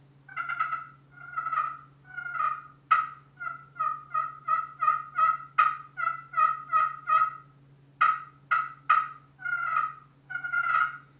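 Soft turkey yelps and clucks from a ceramic friction call, in repeated short bursts with brief pauses, fairly quiet and close with no voices.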